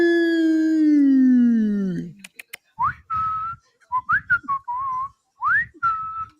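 A long, loud whistle slides downward, followed by a string of short, rising whistles in quick bursts, with voices murmuring underneath.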